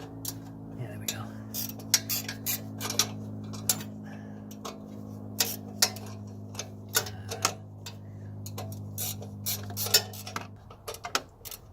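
A ratchet wrench with a 10 mm socket clicks in short, irregular bursts while working on the oil cooler of a Ford Super Duty 6.0 diesel, over a steady low engine-bay hum, with soft talk now and then.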